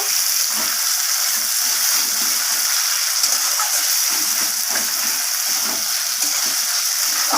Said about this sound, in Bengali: টমেটোটাকে দেওয়ার পর পেঁয়াজের সাথে টমেটোটাকেও আমি ভেজে নেব